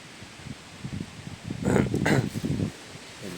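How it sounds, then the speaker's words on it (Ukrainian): Wind gusts through autumn forest trees, leaves rustling softly at first and then swelling into a louder rush before settling again. "У нас якийсь здійнявся вітер"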